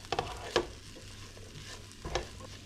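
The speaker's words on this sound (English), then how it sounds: "So now that I don't need that metal spatula anymore, we're just going to mix this together." Food mixed together in a frying pan for a cheap breakfast: a few distinct scraping and stirring strokes over a faint, steady sizzle, with quiet gaps between them.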